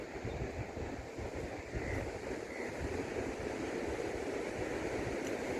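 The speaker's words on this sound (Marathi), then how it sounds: "हा समुद्र" Sea waves wash continuously onto the beach at Ladghar, Dapoli, a steady broadband surf roar mixed with wind buffeting the microphone, with no voices.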